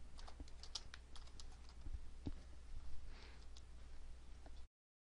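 Computer keyboard typing while a form caption is entered, a steady run of light, close key clicks with a few sharper taps, no voices, over a low hum.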